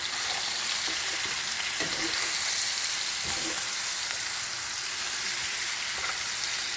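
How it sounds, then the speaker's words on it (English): Steady crackling sizzle of food frying in a hot pan, continuous and close, with a few soft stirring clinks. "We want it to keep frying."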